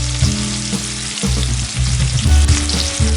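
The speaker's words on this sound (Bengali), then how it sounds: "এই আলুর সাথে আমরা সয়াবিনগুলো একসাথে ভেজে নেব" Potatoes and boiled soybeans frying together in a pan of oil, a dense crackling sizzle with clattering stirring bumps throughout, close and loud.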